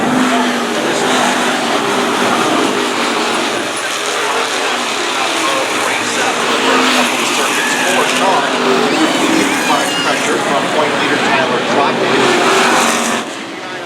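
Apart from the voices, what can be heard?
race cars on track at Stafford Speedway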